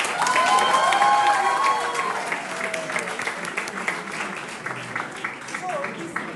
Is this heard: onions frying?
no